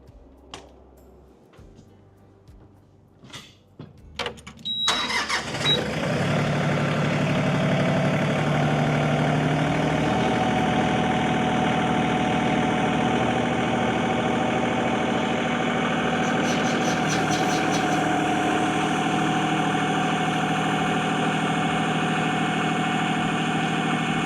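An LS MT226 tractor's diesel engine idles quietly, then revs sharply after a few seconds and holds at a loud, steady 1,600 RPM drone with heavy vibration for the remainder.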